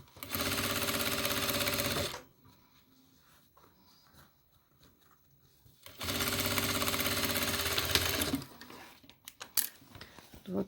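Sewing machine stitching a fabric pouch, a loud steady whir of rapid stitching in two bursts separated by a quiet pause with light handling clicks, then short irregular taps at the end.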